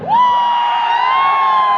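A live Bihu crowd in Tezpur erupts in a sustained shout, one long loud rising cry from many voices with cheering, holding steady and close for the whole moment.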